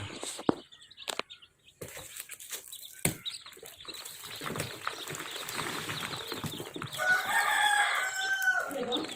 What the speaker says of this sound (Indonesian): Ini dia bibitnya, ayam super.